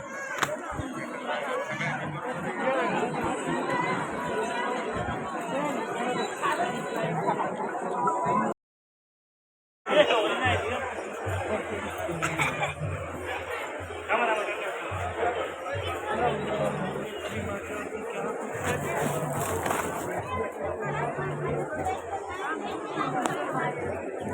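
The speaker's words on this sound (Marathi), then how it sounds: "गर्दी खूप आहे." Dense crowd chatter fills a busy temple during a pilgrimage, a steady hubbub of many voices with a brief break of silence partway through.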